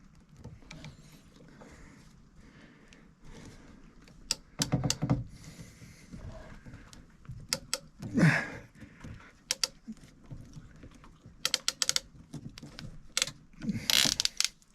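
A ratcheting crimp tool clamps a fitting onto 3/4 inch PEX pipe for cabin plumbing, with a series of sharp metallic clicks and clacks in irregular bursts, close up over quiet handling noise.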